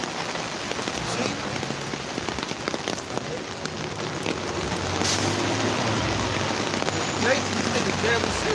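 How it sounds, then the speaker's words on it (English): Steady rain falls outdoors, a continuous hiss of drops pattering on surfaces that grows slightly heavier toward the end. "Why you think we out here in the rain?"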